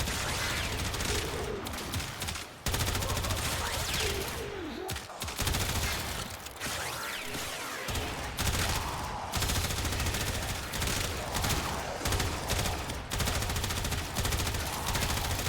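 Rattleguts primary gun firing in Warframe on a Steel Path mission against heavy gunners, rapid repeated bursts of automatic gunfire with brief pauses between volleys, loud and continuous for the whole stretch.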